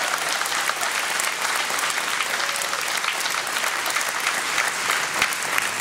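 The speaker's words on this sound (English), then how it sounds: "Let's give them a big round of applause for the efforts this evening." An evening event's audience gives a big, sustained round of applause for the organizers, dense and even clapping throughout with no break.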